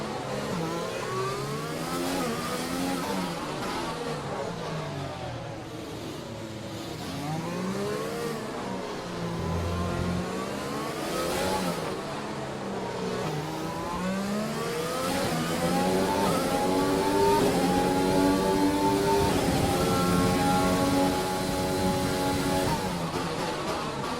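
A race car engine on the Monaco track in a racing video game, driven with half a front wing. It revs steadily, rising and falling through gear changes and corners, loud and alone.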